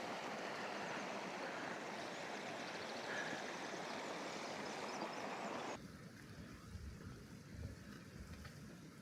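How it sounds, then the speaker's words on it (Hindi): Clear spring water flowing beside a trekking trail toward Nanga Parbat base camp on the Rupal side, a steady rushing hiss that drops abruptly to a softer, quieter flow partway through. "ये देखें कितना साफ़ शफाफ पानी चश्मे का अंदर से रहा है, बिल्कुल ट्रैक के बिल्कुल लेफ़्ट साइड पे"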